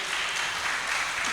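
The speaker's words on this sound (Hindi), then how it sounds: "ताली बजा के ईश्वर की स्तुति कीजिए।" Audience applause fills a church prayer service for children, a dense steady wash of clapping with no gaps, fairly loud and close throughout.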